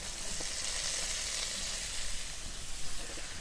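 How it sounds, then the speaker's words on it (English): Tomatoes hit a hot pan with onions for a chicken and vegetable stir fry, producing a constant, dense, hissing sizzle close up with faint stirring underneath. "Now add the tomatoes."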